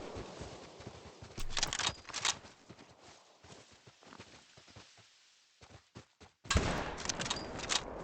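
Hunting rifle shots ring out in the video game TheHunter: Call of the Wild, several sharp cracks spread across the scene with rustling and thudding movement between them.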